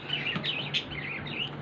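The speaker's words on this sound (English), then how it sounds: "Those are Australian parrots." Budgies, small Australian parrots, give quick high chirps and twittering calls, fairly faint and close, in a brief burst with no talking.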